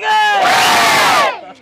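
A loud crowd roars and chants cheers for a candidate at a 2023 election rally, a dense, sustained shout of many voices that swells quickly and fades near the end.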